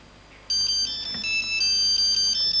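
A mobile phone rings loudly indoors with a bright electronic melody that starts abruptly and repeats its high warbling tones steadily to the end, with no one speaking over it.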